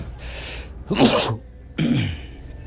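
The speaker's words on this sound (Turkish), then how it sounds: "şey lan hapşırık giriyor" A person sneezes loudly and close by, first a short preparatory breath, then two forceful bursts in quick succession, indoors in a shop.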